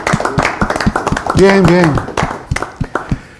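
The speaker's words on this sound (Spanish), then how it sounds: "Reciban mis aplausos." Audience applause for a Latin pop group, with steady hand clapping mixed under a presenter's speech and a brief sung or sustained vocal tone in the middle.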